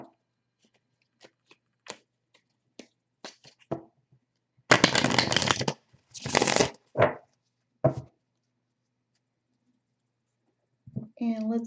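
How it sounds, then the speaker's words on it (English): Tarot cards riffle and shuffle in a few short bursts, crisp and close, separated by quiet pauses, with brief soft taps around them. "Get a couple shuffles."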